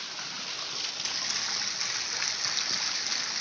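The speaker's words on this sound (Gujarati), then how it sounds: "તો તમને બધે વરસાદ બતાવું જો આજનો અમારો વરસાદ તમને જોઈ દો" Heavy, unbroken rain pours down in Bhavnagar, a dense loud rushing wash with a faint splashing texture and no pauses.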